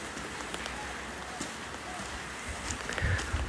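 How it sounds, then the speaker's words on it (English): Heavy rain falls steadily in a broadband hiss, with faint spatters and a slight rumble, outdoors near a wooden tower in rural Shanxi, China. "It's raining kind of hard now."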